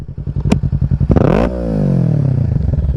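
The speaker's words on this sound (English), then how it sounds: "Of course, I'm gonna give it some revs." A 2023 Kawasaki Ninja 650 fitted with a Yoshimura Alpha exhaust idles with a loud, choppy pulse, then is blipped into a sharp rising rev that falls back to a throbbing idle, recorded up close.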